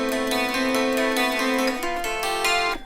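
A Hagstrom Viking Deluxe twelve-string guitar recorded acoustically with a microphone plays an intro passage of bright, ringing chords that shift once near the end, heard alone at moderate level.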